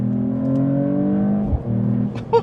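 A Mercedes-Benz E53 AMG engine hums at steady revs, dips sharply in a quick gear shift and then picks up again, close and clear inside the car.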